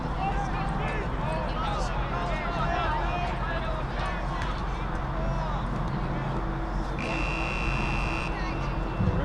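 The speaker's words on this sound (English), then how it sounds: "buzzer sounding at the 26-minute mark" At a boys' high school soccer game between Ludlowe and Stamford, a steady electronic buzzer sounds for about two seconds near the end, over constant crowd noise and background talk.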